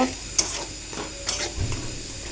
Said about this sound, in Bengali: এখন আমি মরিচের গুঁড়া দিয়ে নিলাম আর ধনিয়ার গুঁড়া দিয়ে মশলাটা আমি একটু ভালো করে কষিয়ে নেব